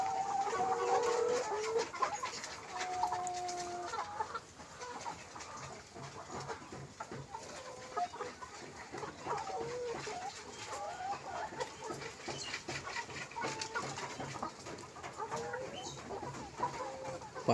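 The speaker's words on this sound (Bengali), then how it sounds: "এটা ডিমের মুরগি।" Egg-laying hens cluck steadily in a poultry shed on a farm that also raises fish, with many overlapping birds calling continuously at moderate distance over a constant ambient background.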